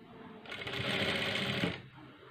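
A sewing machine double-stitching a cross-cut blouse sleeve, whirring steadily in one close, continuous run of about a second and a half before stopping.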